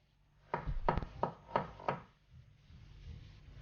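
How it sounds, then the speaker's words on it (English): A knife slices shiitake mushrooms on a cutting board: five crisp, evenly spaced taps close by, followed by quiet. "with our shiitake mushrooms, we're just going to slice these up into slices."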